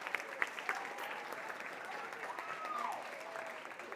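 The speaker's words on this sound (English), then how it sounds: "Give yourself a round of applause." Students applauding at the close of an eighth-grade math competition, a modest, fairly distant patter of clapping with a few sharper individual claps near the start.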